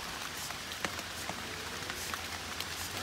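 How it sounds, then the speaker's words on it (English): Steady rain falls outdoors at Cross Manor on Clinton Road, New Jersey, a dense even hiss with occasional distinct drops tapping nearby, soft and continuous with no voices. "It's raining now. Yeah, way too much rain."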